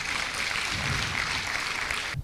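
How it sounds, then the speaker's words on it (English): Applause for both debate teams on stage at a senior school debate competition, a steady full-room clapping that holds evenly for about two seconds and cuts off sharply at the end. "Ladies and gentlemen, a round of applause,"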